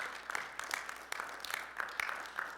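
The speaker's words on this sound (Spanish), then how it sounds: "¿Puedes darle un aplauso a él?" Applause from a church congregation, steady broadband clapping with rhythmic surges, moderately loud and continuous, with no talk over it.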